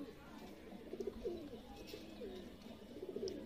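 Soft, low pigeon cooing repeats in short throaty bursts against a quiet background.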